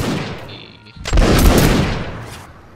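A company of historical reenactors firing a volley in a line battle, one loud, ragged crack of massed musket fire after a shouted command, ringing out for over a second outdoors.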